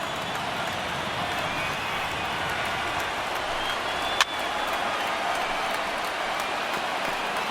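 A baseball stadium crowd of over 31,000 rises to its feet during a perfect-game bid, producing a dense, sustained roar of cheering with one sharp knock partway through.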